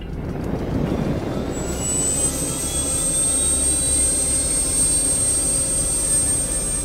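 Helicopter turbine spooling up during start-up on an air force flight line, a loud steady roar with a rising high whine that emerges and holds, no voices.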